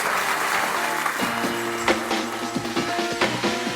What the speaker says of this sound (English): Would y'all say thank you with a round of applause?